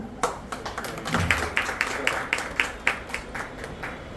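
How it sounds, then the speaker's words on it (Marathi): Scattered clapping at a Marathi political party gathering where women are formally joining, short sharp claps spread unevenly over a few seconds, fairly near, with crowd murmur behind. "जरा थोडं टाळ्या होऊन जाऊ द्या"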